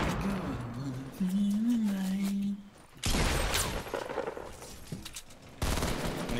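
Gunfire in the video game Fortnite, bursts of rapid automatic shots with sharp cracks and shattering, loud and close, between stretches of players talking.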